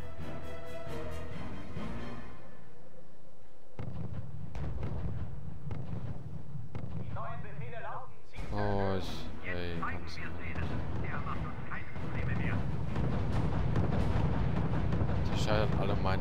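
Rocket tanks (Calliope) firing and shells exploding in the R.U.S.E. strategy game: rumbling blasts and bursts, one sharp burst midway, under voices talking over the action.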